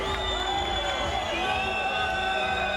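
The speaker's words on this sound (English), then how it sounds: "Crowd ecstatic here." A boxing crowd roars continuously at a fight night, a dense, loud wash of cheering and whooping with high shouts rising over the din.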